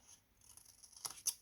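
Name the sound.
scissors cutting paper for a collapsible box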